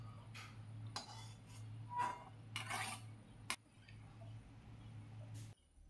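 A spatula scrapes and clinks softly as fried onions are lifted from a pan onto a plate, with several faint, brief scraping strokes over a low background hum.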